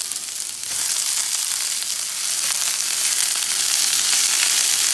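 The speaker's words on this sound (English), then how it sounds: "Get them kind of fried down, sizzled down here." Peppers and onions fry in hot oil in a cast iron pan, giving a loud, dense, continuous sizzle close by that swells slightly after the first second, with no talking.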